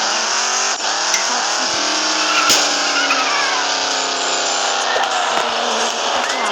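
A video game car drives and skids, with a loud steady engine drone, continuous tire squeal throughout and a few sharp knocks.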